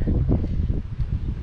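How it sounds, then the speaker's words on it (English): Strong wind of about 24 mph at a pond buffets the microphone with low, gusty rumbling throughout, no voices heard. "it's kind of windy."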